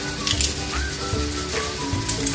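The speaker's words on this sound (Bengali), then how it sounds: "আপনার গ্যাসের যে স্টোভটা মিডিয়াম রাখবেন, অর্থাৎ হালকা আঁচে এভাবে বেরেস্তা ভেজে দিই" Birista, sliced onions frying in oil on a gas stove over medium heat, makes a steady close sizzle that holds throughout with no talking.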